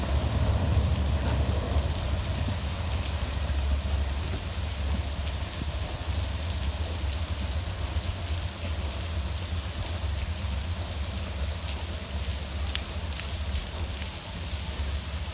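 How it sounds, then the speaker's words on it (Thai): Heavy rainstorm lashing express train 171, hauled by Hitachi locomotive 4507 on the Bangkok to Sungai Kolok line, as it runs into the storm: a steady, dense roar of rain over a low rumble from the train, with no talk. "นี่นะวิ่งเข้าหาพายุฝนเลยครับ ข้างหน้านี่พายุฝน"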